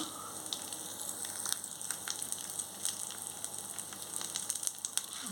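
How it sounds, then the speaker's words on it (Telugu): Chana dal, cumin, urad dal and dried red chillies frying in hot oil for an onion chutney, a quiet steady sizzle with small crackling pops scattered throughout. "కొంచెం బాగా వేగనివ్వాలి దోరగా ఎగిపోయి"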